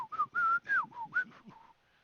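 A voice imitates bird language for the Aarakocra, a fantasy bird-folk: a quick run of about eight whistled chirps with rising and falling pitch, close and clear, fading out at the end.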